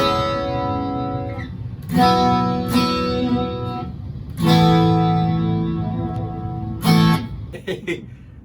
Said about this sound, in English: Do reverb and stuff.